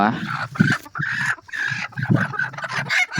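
Country hens, eight of them tied up inside a bag, clucking close by in steady bursts while people talk over them.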